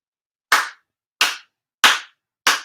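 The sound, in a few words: four ritual hand claps at a shrine ceremony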